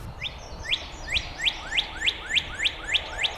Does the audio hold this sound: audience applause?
no